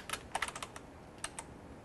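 Fingers tap on a computer keyboard, a quick, soft run of close-up key clicks with a short pause before a couple of final taps.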